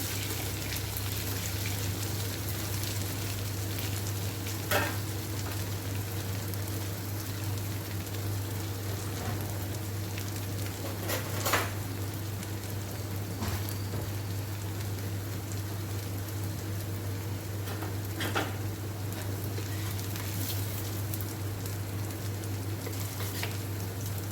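Chhole tikki shallow frying in a pan, a steady hissing sizzle with a low hum beneath and a few louder crackles, with no talking.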